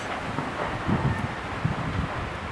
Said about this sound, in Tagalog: Kalakas ng bagyo.